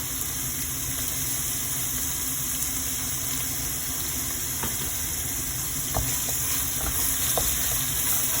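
Onions frying in oil in a pot, a continuous close sizzle with a few faint clinks and stirring knocks and no talk.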